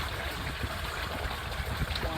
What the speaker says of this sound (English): Water's just cruising through there right now.